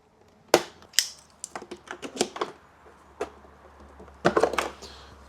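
Small plastic clips pop out of a 2025 Honda CBR1000RR-R SP body panel in sharp, close snaps and clicks, scattered in irregular bursts with quiet gaps between them.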